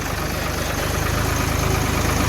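A heavy John Deere tractor engine idles steadily nearby during paddy field work, a low rhythmic rumble with a faint vibrating throb.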